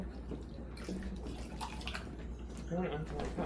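Lemonade is ladled into a cup, splashing and trickling in short pours, with a voice talking over the watery sounds.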